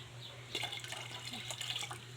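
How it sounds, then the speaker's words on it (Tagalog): Water runs into a casserole pot on a home kitchen stove, filled for boiling macaroni for a Filipino-style creamy pasta; a steady splashing pour starts about halfway in and continues fairly close and moderately loud, with no talking. "magpapakulo tayo ng tubig sa casserole"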